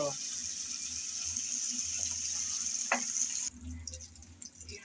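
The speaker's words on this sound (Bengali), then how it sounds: "আমি তিন চার মিনিট নেড়ে চেড়ে চিংড়ি ভেজে নিয়েছি" Prawns frying in oil in a home kitchen, a steady bright sizzle that drops off sharply near the end, with a few stirring clinks and low background noise.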